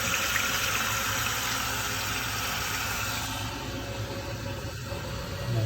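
A toilet tank refills with water after its flush valve has been replaced, giving a steady rushing, hissing flow that runs the whole time and eases slightly toward the end, close and without speech.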